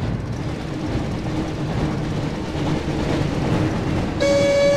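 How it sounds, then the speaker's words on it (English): Hogwarts Express train from the Harry Potter and the Chamber of Secrets PS1 video game, a continuous rumbling roar of rolling wheels and rails, steady and loud, ending with a sharp tonal whistle in the final half second. "Looks like we found the train, Ron."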